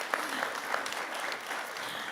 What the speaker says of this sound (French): on peut l'applaudir, c'est vrai.